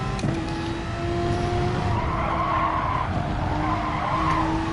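A GT3 race car in a sim racing game drives under steady engine drone with long, sustained tyre squeals as it brakes, loud and close, with no talk.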